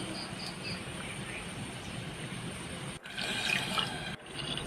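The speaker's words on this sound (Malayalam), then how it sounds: "ഏത് കപ്പളവിലാണോ അരിയും പരിപ്പ് കൊടുത്തത് അതേ കപ്പിൽ 4 കപ്പ് വെള്ളം കൂടെ ചേർത്ത് കൊടുക്കുക" Water is poured into a pressure cooker holding rice and lentils for pongal, a steady faint trickling and splashing that cuts off briefly, then resumes more loudly.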